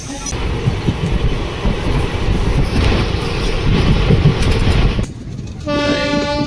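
A late-running passenger train on the Shalimar to Dwarka route rumbles loudly and steadily with clattering wheels, then near the end a long, tonal horn blasts out close by.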